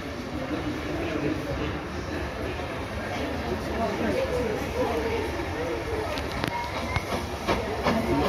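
A GWR Castle class steam locomotive, number 7029, rumbles into Bristol Temple Meads station, a steady mechanical rumble with occasional clanks under busy platform ambience and people talking nearby.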